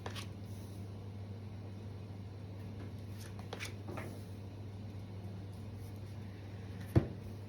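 Tarot cards are shuffled and drawn with soft, papery riffles and slides over a steady low hum, ending in one sharp tap near the end.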